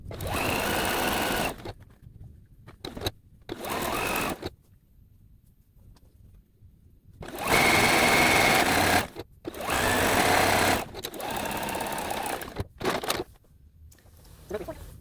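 A sewing machine stitches two rows of a Christmas tree quilt top together in loud close bursts of a few seconds each, separated by brief pauses, with no voices.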